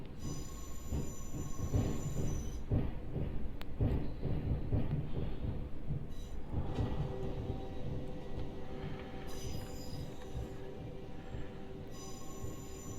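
A Class 707 train in Train Simulator Classic runs from London Victoria toward Brighton with the windows open, a continuous low rumble of wheels on rails with rattles, clicks and faint squeals, carrying on steadily without talk.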